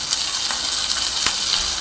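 Close, steady sizzling and crackling of cut cowpeas sautéing in hot oil, with a few sharper pops and light stirring sounds, no voices.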